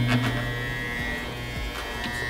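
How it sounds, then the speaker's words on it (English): Electric hair clippers fitted with a guard buzz steadily at close range while cutting hair near the ear, a continuous motor drone with brief shifts as the blade moves through the hair. "So I put the guard on first, and now I'm just gonna look into the mirror, and I'm gonna bring it up to like my ear right here"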